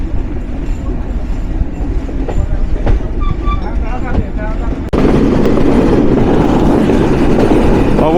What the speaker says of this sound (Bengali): 2 মিনিট যাত্রা বিরতি সম্পূর্ণ করে আন্তনগর চিত্রা এক্সপ্রেস যাত্রা শুরু করলো